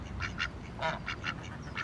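Geese in Tucson give a series of short, nasal honks in quick bursts, fairly close over a steady background hiss.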